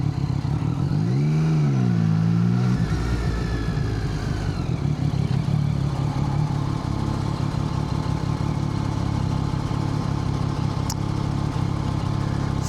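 A motorbike rides through traffic in Chiang Mai's Old City in Thailand, its engine droning loud and close throughout, with a revving rise and fall early on and other vehicles clattering around it.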